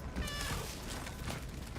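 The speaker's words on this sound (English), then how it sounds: "There's the cat." A cat meows in the video game Cronos: The New Dawn, a short, close call riding over a dense, loud ambient game soundscape.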